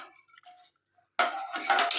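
Soaked rice is rinsed in a metal pot for tomato rice, with sloshing water and grains scraping against the pot in a close, bright burst after a few quiet clinks.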